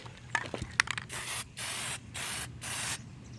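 A nearly empty spray can lays a Plastidip coat onto a car grille in several short, loud hissing bursts close by, preceded by a few rattling clicks as the can is handled.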